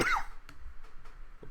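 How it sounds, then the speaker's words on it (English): A single harsh cough comes at the start, close and fairly loud, followed by a few faint clicks and light breathing noise. "Sorry you've had to watch me cough."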